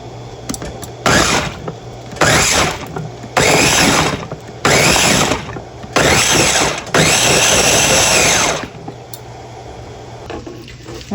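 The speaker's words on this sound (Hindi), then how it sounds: "ये देखें, मैं अब पीस रही हूँ, मैंने इसमें डाल दिया ब्लेंडर में।" An electric blender grinds dates and tamarind for chutney in loud bursts of roughly a second each, six separate whirring pulses with quieter pauses between them.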